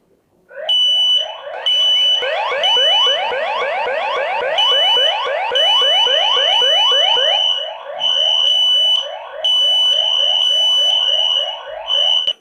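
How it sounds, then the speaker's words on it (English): A smoke detector set off by a burning paper or match test blares a loud, piercing electronic alarm, rapid warbling pulses with sharp high tones that repeat continuously for several seconds in an echoing room. "This alarm is crazy."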